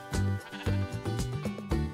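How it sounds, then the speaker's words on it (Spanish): Sheep from the Minecraft Better Animal Models mod bleat loudly several times in quick succession, close and clear with no talking. "Miren las ovejas."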